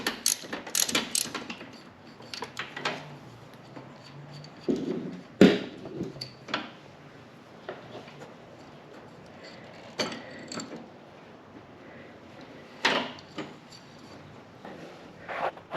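A 17mm socket wrench works the pulley off a John Deere lawnmower, giving repeated ratcheting clicks, metallic knocks and creaks at close range, irregular and fairly quiet.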